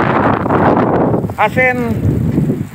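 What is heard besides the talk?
strong wind blowing outdoors during a sandstorm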